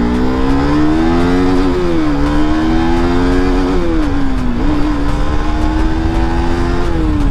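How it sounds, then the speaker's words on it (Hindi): A KTM motorcycle on a test ride, its engine droning steadily and loudly throughout with rising and falling revs as the rider changes pace, close and continuous with no talking. "मतलब टेस्ट ड्राइव करूँगा कि कैसा कंडीशन पे है बाइक।"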